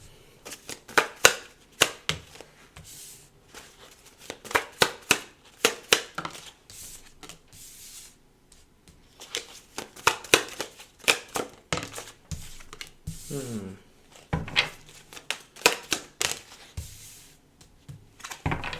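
Tarot cards are pulled and shuffled by hand in quick bursts of crisp riffling and snapping, close and fairly loud, with short pauses between rounds and no talking.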